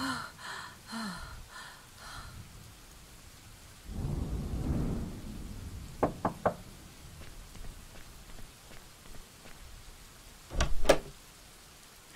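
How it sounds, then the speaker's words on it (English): A storm in The Charnel House Trilogy: a heavy rumble of thunder swells midway, followed by several sharp crackles and a loud late clap over a soft bed of steady rain, with some breathy gasps early on. "how bad is this storm?"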